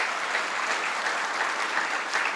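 Audience applause at a university scholar-athlete banquet honoring student athletes, a dense, even wash of clapping from many hands that holds steady throughout.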